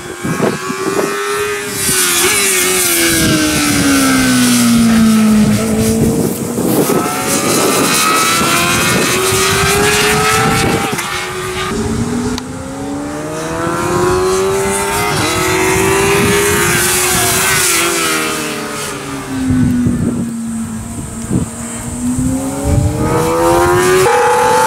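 A Kawasaki ZX-4RR inline-four sport bike laps the Sodegaura circuit, its high-pitched engine screaming loudly and continuously as it rises and falls through repeated gear changes and throttle sweeps.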